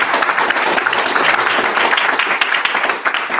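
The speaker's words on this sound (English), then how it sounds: "Give Ben a clap" A short burst of audience clapping for a speaker at a tech meetup in London, brisk and even for a few seconds before cutting off abruptly.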